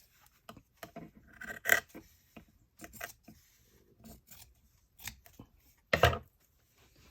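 Scissors snip through an old, altered book cover in a few sharp, close cuts, with softer rustling and rubbing of paper between them. No one speaks.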